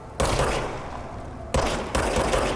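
The Service Weapon fires in the video game Control: three loud, close bursts of gunfire, each a sharp crack with a short ringing tail, spaced unevenly and heard alone without speech.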